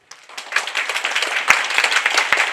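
An audience claps steadily to welcome a staff member onto the stage at a citizens' briefing on the Yeongju lead smelter, with dense, continuous applause and a couple of sharper claps standing out.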